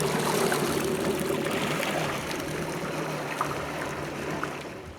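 A Yamaha EX Deluxe WaveRunner idles slowly out of a marina slip, a low engine hum beneath steady splashing and trickling water, moderately loud and close with no talk.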